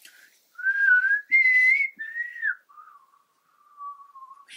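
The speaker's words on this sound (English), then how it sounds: "that was a really rubbish whistle" A person whistles a short, wavering tune alone: a few sliding phrases, the first loud and bright, then quieter, lower held notes trailing off near the end, with no talking.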